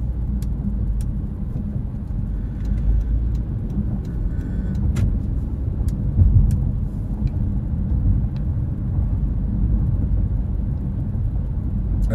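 A car drives on suburban residential roads in Katy, Texas on a clear day, heard from inside as a steady low road and engine rumble with a few faint ticks.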